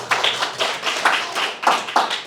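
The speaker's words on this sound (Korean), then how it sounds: "박수." A church congregation claps together in applause, a close, steady patter of many hands with rhythmic swells, no voices over it.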